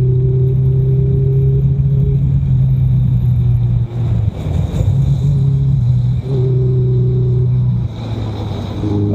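A Baja 1000 race car engine drones loud and close, hitting its rev limiter at about 4000 rpm in long sustained bursts broken by brief dips and stutters as the revs cut and pick up again.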